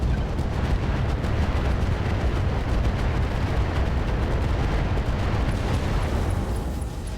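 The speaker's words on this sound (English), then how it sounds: "LRM ammo explosion there into multiple engine crits" A heavy, sustained explosion of LRM ammunition in the mech combat game RogueTech rumbles loud and dense for several seconds, a continuous roaring blast with crackling texture, no voices over it.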